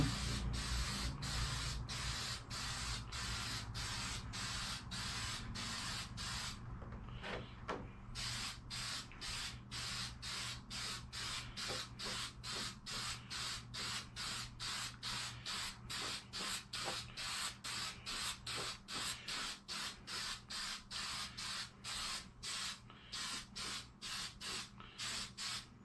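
An aerosol can sprays paint onto an RC car body shell in a long string of short, evenly spaced hissing bursts, steady and close, with no talking.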